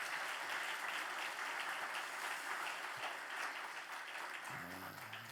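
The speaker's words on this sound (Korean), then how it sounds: "우리 청년들에게 힘내시라고 우리 격려의 박수 한번 해주시고" Congregation applauding at a Holy Week special early-morning church prayer service, a dense steady clapping that fills the room and carries on throughout, fading slightly near the end as a voice begins to speak.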